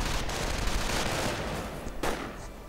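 Rifle and machine gun fire in a WWII strategy video game, a dense continuous rattle of overlapping shots with a sharper burst near the end, loud and busy.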